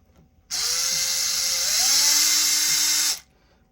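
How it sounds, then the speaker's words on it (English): An electric drill runs in one steady high-pitched whine for about two and a half seconds, close and loud, while working on a Traxxas E-Revo RC car hub during bearing replacement, with its pitch rising slightly midway. "let's get our electric drill"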